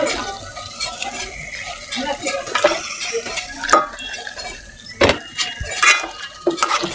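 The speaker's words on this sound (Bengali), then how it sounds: "এখন এগুলাই আমি এখানে দিয়ে দিলাম।" Washed beef pieces drop into a pan and are stirred for a village-style taro (kochu) beef curry. Close scraping and clattering strokes come at irregular intervals over a faint sizzle.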